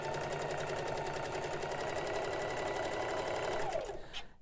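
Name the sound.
sewing machine stitching Christmas tablecloth fabric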